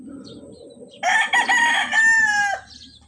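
A rooster crows once, loud and close, a drawn-out cock-a-doodle-doo of about a second and a half, rising over quieter background clucking and farmyard murmur.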